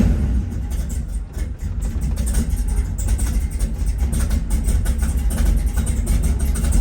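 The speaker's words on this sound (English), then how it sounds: "I'll start it up real quick." An engine fitted with Holley Terminator X EFI runs at a steady, rough idle close by, a continuous low rumble with slight fluctuations throughout.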